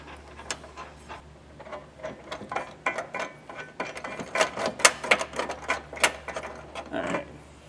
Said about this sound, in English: Take one of our flange nuts, and we'll thread that on.